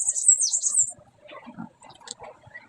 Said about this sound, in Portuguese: Pelo canto é um coleirinha.